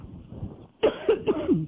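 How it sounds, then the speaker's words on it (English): After a quiet, muffled moment, a person gives a cluster of about four quick, close coughs with a raspy, throaty edge. "Sorry about the coughing."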